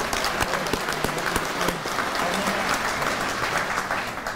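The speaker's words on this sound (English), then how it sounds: "Let's give him a round of applause again." A live audience at a legion gathering claps together in sustained, dense applause that fades slightly toward the end.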